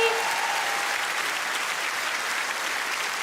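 Sustained applause from a studio audience at a comedy show, steady dense clapping from start to finish with no talk over it.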